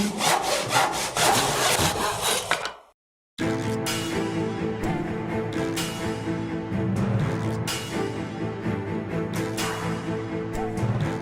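A Japanese handsaw with crosscut and rip-cut teeth on one handle cuts through wood in steady, rhythmic rasping strokes, loud and close, with one brief silent pause early on before the sawing resumes.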